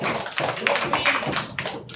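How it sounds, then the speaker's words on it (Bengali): A group of schoolchildren at a West Bengal Day celebration claps loudly and hard. The dense, uneven patter of many hands fills the whole stretch at close range. "আপনারা এখন জোরে হাততালি দাও"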